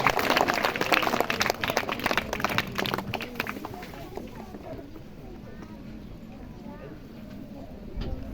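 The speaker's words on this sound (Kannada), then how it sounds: "ಜೋರಾದ ಚಪ್ಪಾಳೆಯೊಂದಿಗೆ ಸ್ವಾಗತ ಬಯಸಬೇಕಂತ ಕೇಳ್ಕೊತೀನಿ." An audience at a licensed electrical contractors' association event claps loudly for a guest; the dense applause fades over several seconds as someone speaks.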